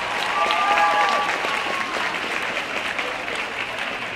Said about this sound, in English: Let's give all our novices a hand, round of applause.